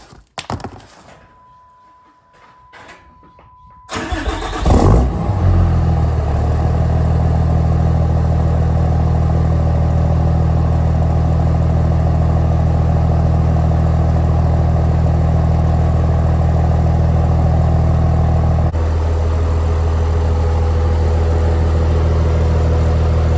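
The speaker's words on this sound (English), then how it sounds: "Definitely quieter, but it's not like way quieter, which is nice. I really do like the exhaust note." A 6.7 Cummins diesel truck with an Aero Turbine-XL muffler starts after a quiet moment and settles into a steady, deep idle with a throaty exhaust rumble, continuous and close.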